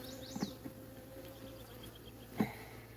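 Honeybees hum faintly around an open hive during frame work, a low steady buzz broken by a couple of brief close knocks or scrapes near the start and again later.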